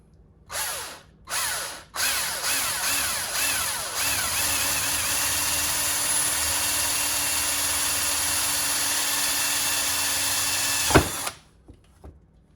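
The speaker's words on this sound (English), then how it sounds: "this one is gonna drill right through the top piece here" A half-inch power drill revs in two short bursts, then runs continuously at a steady whine for several seconds before winding down with a clunk.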